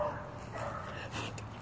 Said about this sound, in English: I was gonna go investigate the dog.